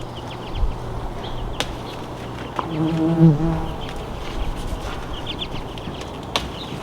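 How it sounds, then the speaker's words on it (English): Bees buzz around hollyhock flowers on a city morning, a faint, wavering drone that swells briefly in the middle over quiet background noise and a few soft clicks. "too many bees. They love these hollyhocks."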